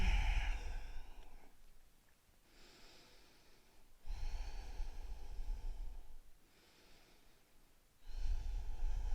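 Slow yoga breaths during a chakra flow, with long audible exhales through the nose, close and soft, roughly every four seconds with quiet pauses between.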